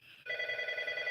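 A very loud telephone ringing nearby, a steady trilling bell tone that starts abruptly and continues alone for about a second.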